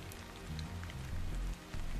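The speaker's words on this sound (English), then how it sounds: "This must be Earth's rain." Rain falls in Stellar Blade as a broad, even hiss of droplets over a low rumbling ambience, moderately quiet and continuous, with no speech.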